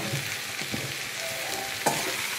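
Chapati pieces stir-fry with onion and capsicum in a hot pan, with a continuous loud sizzle and occasional clanks and scrapes of the stirring spoon, the sharpest clank near the end.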